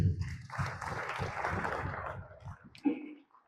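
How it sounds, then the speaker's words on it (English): A crowd claps in a dense patter of applause at a women's football strategy launch event, holding for a few seconds, then thinning out and fading. "A round of applause for them, please."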